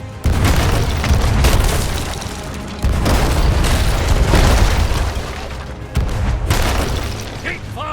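Ship cannons in Sea of Thieves fire in a repeated series of heavy booming blasts, loud and close, each followed by a rumbling roll, with voices heard between them.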